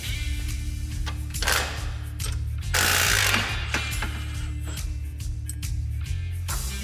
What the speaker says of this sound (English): We're gonna grab a 17mm socket and 17mm wrench and remove all of our A-arm hardware.